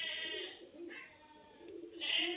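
Soft, low coos from a female flying pigeon come in a few throaty bursts with brief pauses between, close by and fairly quiet.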